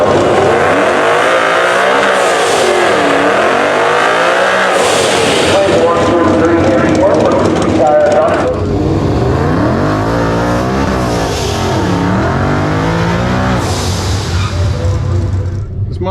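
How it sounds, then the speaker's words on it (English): A Ford Mustang drag car launches down a quarter-mile strip, its loud engine sweeping up and down through gear changes with a roaring, rising drone, while voices talk over it. "This Mustang sounds good."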